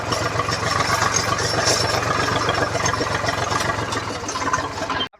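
A tractor engine runs steadily with a low, chugging rumble in a farm field, close and fairly loud, cutting off abruptly at the end.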